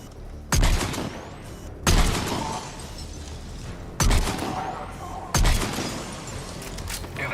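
DMR rifle shots in the shooter Mass Effect 3, four loud, sharp single reports spaced a second or two apart, each with a ringing decay over a low background hum.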